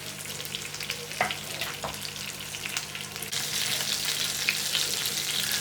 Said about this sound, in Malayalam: ഈ സൈഡ് ഒന്ന് ജസ്റ്റ് ഫ്രൈ ആക്കട്ടെ